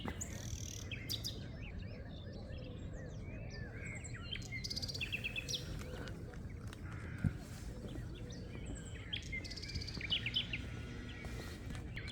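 Many birds chirp and sing together in a steady forest chorus along a walking trail, with overlapping calls near and far and no voices.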